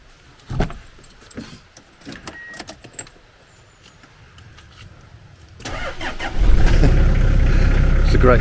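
Keys jangle and click for several seconds before a Toyota diesel engine cranks and fires, settling into a loud, steady, close-up idle clatter that continues to the end.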